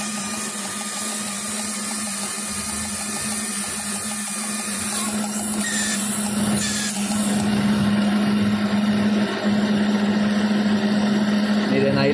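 Ford engine idling steadily and evenly with its rear vacuum hose covered by hand, a continuous close mechanical hum with a faint whistle and no misfire, running alone without talk.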